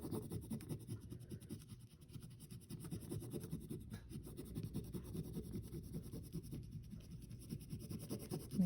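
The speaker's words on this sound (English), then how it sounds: "you just basically rub the top of this transfer paper until your design goes a little opaque" Soft, steady rubbing and scratching as transfer paper is rubbed onto card paper continues throughout, a quiet, close, repetitive friction sound.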